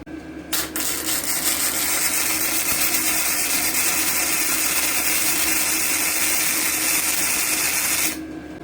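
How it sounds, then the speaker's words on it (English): A YESWELDER YWM-160 MIG welder lays a test weld in a garage, making a continuous loud crackling, sizzling hiss for about eight seconds, close, with a short click at the start. "then we're going to do our first test weld on this thing."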